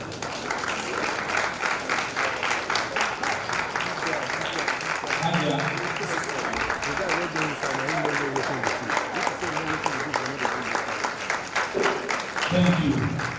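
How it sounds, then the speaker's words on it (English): Steady applause from a crowd at a leadership academy graduation ceremony, continuous and fairly close, with talk and cheering faintly mixed in underneath. "Let's give her a round of applause."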